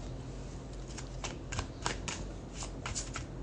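Tarot cards being shuffled by hand, a run of soft, quick riffling flicks and taps close up over a low steady background hum, with no talking.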